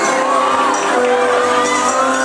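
A lively crowd cheers and shouts continuously at a high school arts performance, with excited whoops rising over a dense wash of voices.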